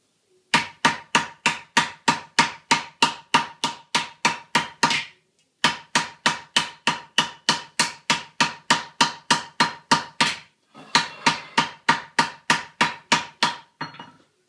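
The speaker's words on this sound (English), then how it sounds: "carry on hammering that up till I get it up more like the cow body shape" Rapid, evenly spaced metallic taps of fine hammers on silver, shaping a cow creamer body, ring out close up in three long runs, each blow sharp and bright, with brief pauses between series.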